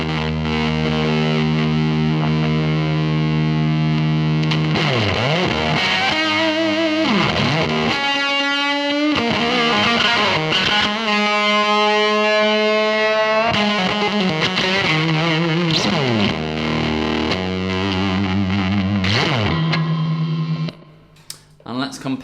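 Electric guitar through an original Fuzz Face fuzz pedal, thick and heavily overdriven, with sustained saturated notes and chords, wobbly bends and a sudden cut-off near the end; no voices.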